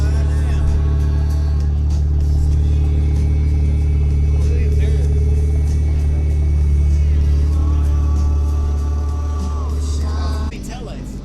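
A Ford Mustang engine drones loudly and steadily with a deep low hum, swelling slightly in the middle before dropping off near the end, while other street noise and brief sounds pass over it.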